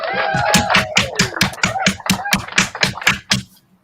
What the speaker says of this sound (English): round of applause for the Graham and Bob Show